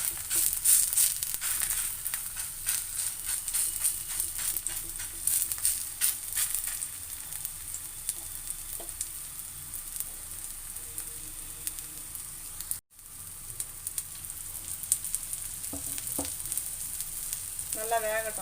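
A ragi and drumstick-leaf adai fries in oil on a hot dosa tawa, a dense, continuous crackling sizzle that cuts out briefly, then resumes at a steady level.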